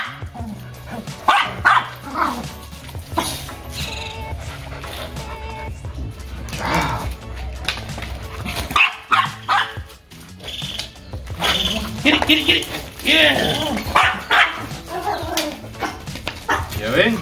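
A dog barks and yips in short bursts during play-based training at home, close and lively, with a person talking over much of it.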